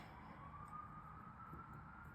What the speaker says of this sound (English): Sorry about the ambulance, guys. I live in New York, so it is inevitable.